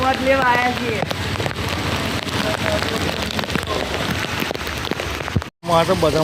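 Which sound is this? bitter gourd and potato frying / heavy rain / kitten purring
heavy rain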